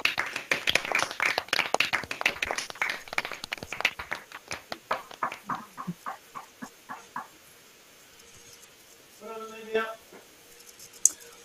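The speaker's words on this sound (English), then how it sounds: "I now warmly welcome you to unmute yourselves and cheer and clap for each other." Online graduation attendees for a school of geography and planning unmute and clap and cheer, starting as a dense burst of claps that thins into scattered separate claps and then fades out, with a short voice near the end.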